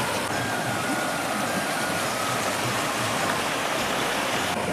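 A village river running high after a flood gives off a steady, dense rushing roar, constant and fairly close throughout without pause.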